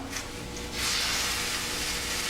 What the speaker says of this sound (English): Season side down. Ooh, hear that sizzle?